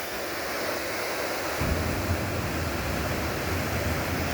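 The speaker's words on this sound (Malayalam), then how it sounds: "അതാണ് ബീച്ച്." Sea waves break on Chavakkad beach in a broad, continuous roar of surf. A heavier, deeper wash swells in partway through, mixed with wind rushing across the microphone.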